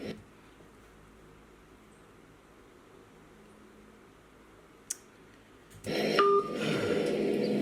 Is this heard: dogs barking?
no